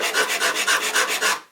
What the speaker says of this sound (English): So this end, I'm going to round it over just using sandpaper.